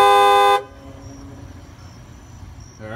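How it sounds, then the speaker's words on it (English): A Dodge Challenger's stock car horn sounds once, a loud close honk lasting about half a second, then cuts off to a quiet outdoor background before a second honk begins right at the end. "one last listen to the stock horn"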